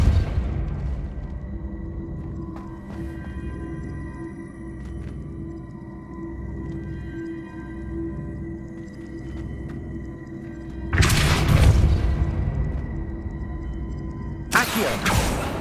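A Depulso force spell cast in Hogwarts Legacy lands as two sudden, loud whooshing blasts a few seconds apart over a low, humming game background.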